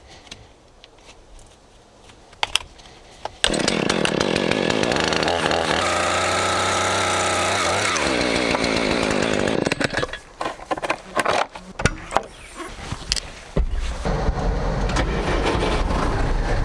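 A chainsaw fitted with a brand new chain at a log cabin build in Finland starts up and runs at a loud, sustained high rev for several seconds, then revs in bursts and idles between cuts.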